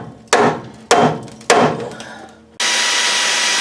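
Three sharp, ringing strikes of a hammer on a punch against a GM truck ball joint, spaced about half a second apart, each decaying, followed by a sudden loud grinding whir of drilling.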